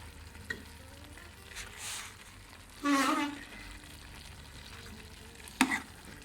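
A potato and egg curry is mixed in a pan, with a quiet background sizzle broken by several short, louder bursts of spoon scraping and stirring.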